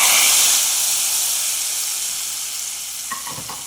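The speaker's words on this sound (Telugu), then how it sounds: "ఈ బచ్చలి పప్పులో పోపు వేస్తున్నాను చూడండి." Loud, steady sizzling of spices tempering in hot oil, poured into a Malabar spinach and lentil dal, a bright hiss that slowly fades, with a couple of faint clinks near the end.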